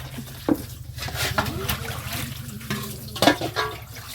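Water runs from a tap into a container near a leaking pipe, a steady close splashing flow with clinks and knocks over a low hum, while a person speaks briefly.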